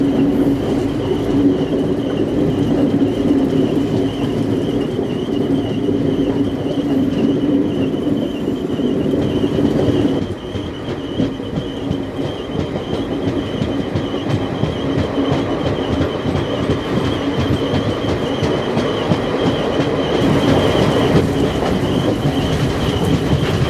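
Koyna Express passenger train rolling on rails through hilly ghat country, heard from inside an AC chair car: loud steady rumble with wheel clatter and occasional squeal throughout, no talk.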